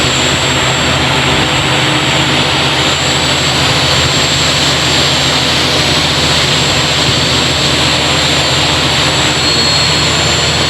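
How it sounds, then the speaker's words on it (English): Quadcopter motors spin up under throttle on a transmission-line inspection drone, giving a loud, steady, continuous whine and rushing hum that holds for several seconds without pause. "Throttle up the stick and the motor spins."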